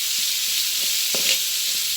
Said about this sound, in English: I'm frying this